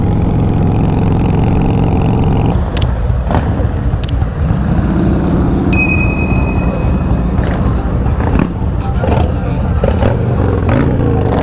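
A Harley-Davidson motorcycle with a sidecar idles with a loud, deep, steady rumble that dominates throughout, with occasional clicks and brief tones layered over it.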